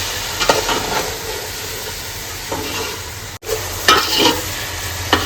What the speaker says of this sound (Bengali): হালকা করে ভেজে নেবো